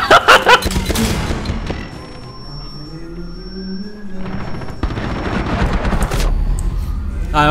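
Gunfire in the tactical shooter Rainbow Six Siege, loud bursts of rapid automatic shots at the start and again near the end, separated by a quieter stretch with a voice talking over the game sounds.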